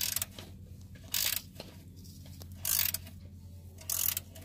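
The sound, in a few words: ratchet loosening oil drain plug on Honda Accord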